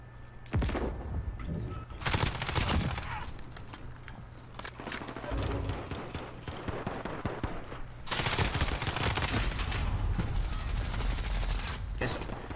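Rapid automatic gunfire from a Modern Warfare multiplayer match using a RAM-7 rifle setup, sustained bursts with brief pauses, loud and close, with someone talking over it.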